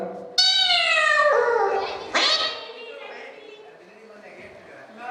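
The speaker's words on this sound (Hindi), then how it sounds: "पापा छोड़ो, बिल्ली थी।" A cat meows twice, loud and close, with long drawn-out wailing calls indoors, followed by quieter room sound.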